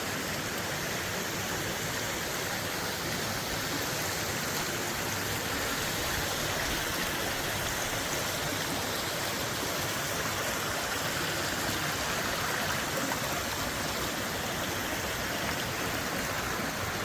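A creek in Ice Box Canyon, Red Rock Canyon National Conservation Area, Nevada, flows with a steady, even rushing hiss that holds unchanged throughout, a soft constant wash of running water with no voices.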